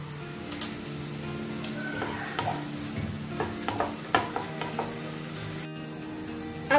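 Soya momo filling is stir-fried in a pan with vinegar, with repeated spatula scrapes and taps over a soft steady sizzle, fairly quiet and close, with a sharp clack near the end and no speech.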